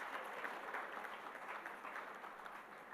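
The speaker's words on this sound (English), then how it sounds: "Can I have a big round of applause for the panelists and the moderator" An audience claps steadily after a panel session on innovative financing for infrastructure and manufacturing, applauding the panelists and moderator. The applause is dense and sustained throughout, with no voices over it.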